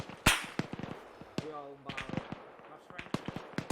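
Gunfire cracks and pops in Arma 3 as incoming rounds hit. Sharp shots come in scattered bursts at varying distances, mixed with voices talking over team chat.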